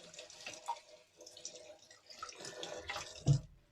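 Cold tap water runs over a razor blade during a wet shave with a Fatip Piccolo special edition razor, a soft, steady faucet trickle with a brief louder splash near the end.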